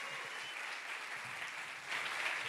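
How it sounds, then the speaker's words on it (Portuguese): Audience at a hypnosis comedy show applauds steadily, a soft, even wash of clapping that swells slightly near the end. "uma salva de palmas para os nossos"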